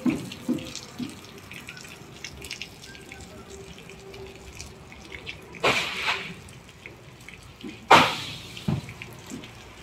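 Tap water running during washing, with a steady background trickle broken by two louder, close gushes of water hitting a surface near the end.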